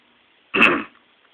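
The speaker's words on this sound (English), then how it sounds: "I have to keep clearing my throat." A single short, harsh throat clearing, close and sharp, in an otherwise quiet room.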